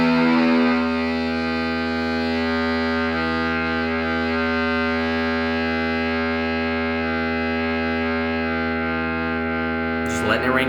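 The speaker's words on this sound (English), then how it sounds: "It's a fuzz, maybe a little elements of distortion, but it's a fuzz" A single electric guitar note played through a fuzz pedal with a touch of distortion, held and left ringing as a loud, thick, buzzing sustain for about ten seconds before a brief scrape at the end.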